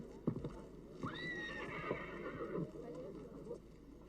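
Cart horse pulling an arba in a 1965 Soviet film gives a long, clear whinny near the start, followed by steady clip-clopping hooves and knocks, moderately close and fairly quiet, with no talking over it.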